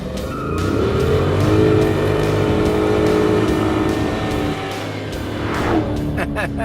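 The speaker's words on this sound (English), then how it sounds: "V8 is a good enough send-off." A Chrysler 300's powerful V8 engine revs hard and loud, its deep roar climbing and falling in pitch, with a tire squeal and a brief lull near the end.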